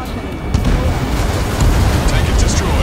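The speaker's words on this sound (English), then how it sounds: "Tank is destroyed." A tank is blown up in Ace Combat 7, giving a deep, rumbling blast that rolls on continuously. Radio chatter is mixed in.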